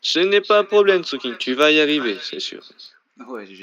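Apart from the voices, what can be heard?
No everyday noises stand out.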